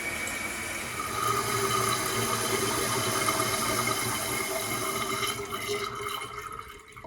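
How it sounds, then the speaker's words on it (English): A toilet tank refills after its shutoff valve is reopened during a power outage: a steady, close hiss and trickle of water runs continuously, fading slightly toward the end. "And the tank is refilling with water, as if we have power again."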